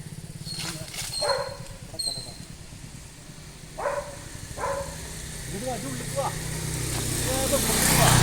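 A dog at a house gate barks several times, with short sharp barks spaced apart amid voices and a low engine-like background hum.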